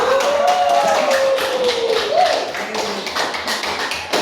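Classroom clapping from students, a steady run of sharp claps that continues for several seconds, close and fairly loud, with a voice talking over part of it.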